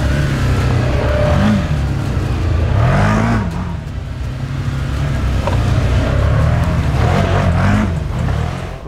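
A 2025 Can-Am Outlander XT-P 1000R ATV with a 1000cc Rotax V-twin runs loud and close, its engine rising and falling through repeated revs over a steady mechanical drone.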